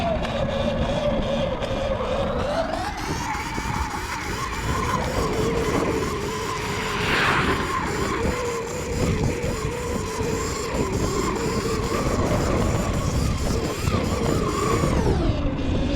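A Surron X electric dirt bike climbs a steep hill in a wheelie, its motor giving a steady close whine that rises in pitch early on and holds through the long climb, with faint wind and no talk.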